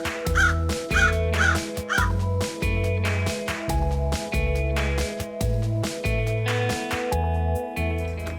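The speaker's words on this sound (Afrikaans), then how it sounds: "Crow." A crow calls out in a long series of loud, harsh caws, roughly one every second and close to the listener, all over a steady musical backing.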